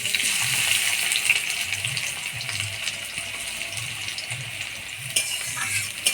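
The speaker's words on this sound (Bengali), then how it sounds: "এবার দিয়ে দেবো পেঁয়াজ, কাঁচা লঙ্কা।" Onions and green chillies sizzle in hot oil in a wok, a dense, steady frying hiss with faint clinks, close and continuous throughout.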